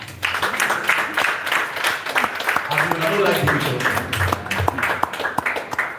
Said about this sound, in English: You guys are supposed to clap at this point.